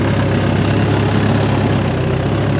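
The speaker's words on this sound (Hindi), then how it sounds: "ट्रैक्टर भी ओवरलोड चल रहा" A tractor engine runs overloaded while pulling a cultivator through a wet field: a steady, loud, low engine drone with constant vibration and no other sounds.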